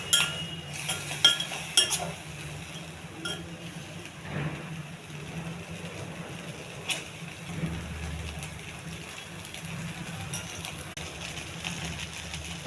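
Red rice stirred in a pan with a spoon, with repeated metal clinks and scraping against the pan at an irregular pace, close by, over a low background hum.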